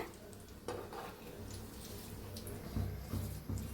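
Curry leaves fry until crisp in hot oil in a pan, making a soft, continuous sizzle. A few light clinks of a utensil sound near the end.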